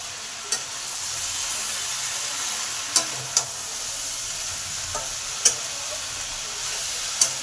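Vegetables for Bengali labra frying and sizzling in a pan, a steady close hiss with a few sharp pops and crackles spread across the clip, no talking.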